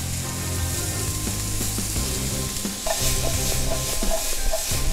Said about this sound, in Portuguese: eu vou tirar o pimentão e vou dourar a minha cebola